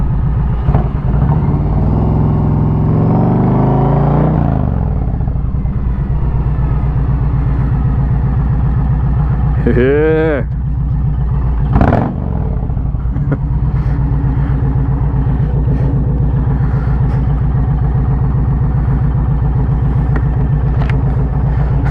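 An Indian Challenger motorcycle with a TAB Performance cat delete idles with a loud, deep, steady rumble, broken by a couple of sharp throttle blips midway, close up and continuous throughout.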